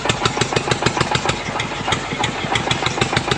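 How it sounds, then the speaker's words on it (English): An old diesel tractor engine that broke down in a river cranks over and settles into a loud, close, rapid knocking idle with an even chugging rhythm throughout. "One smooth crank and the engine finally rolls back to life."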